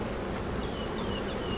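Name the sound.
honey bees buzzing at an open hive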